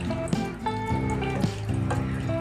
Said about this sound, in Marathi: थोडंसं पाणी टाकून घ्यायचं वरून